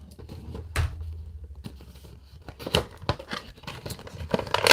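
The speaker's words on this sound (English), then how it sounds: "Slice through that tape." Scissors slicing through packaging tape while a He-Man Masters of the Universe figure box is opened: sharp snips and tearing bursts mixed with crinkling plastic and cardboard, close-up and irregular.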